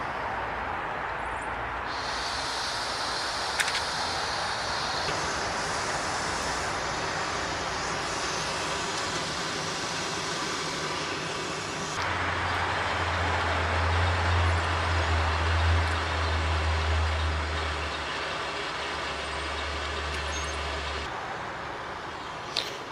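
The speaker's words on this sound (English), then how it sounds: "We'll see if that canister has enough gas in it to get that to a boil." A gas canister camp stove burns steadily with a continuous broadband roar while heating a canteen cup to boil, the hiss shifting partway through as a low rumble joins in, with no voices.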